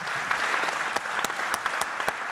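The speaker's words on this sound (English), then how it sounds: "I ask from all of you a good round of applause for Etexa" A summit audience applauds a congratulated organisation, giving a steady, dense wash of many hands clapping at close range with a few sharper individual claps standing out, and no talk over it.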